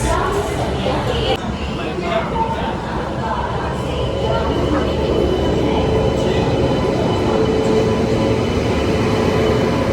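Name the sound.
Purushottam Express passenger train moving, heard from inside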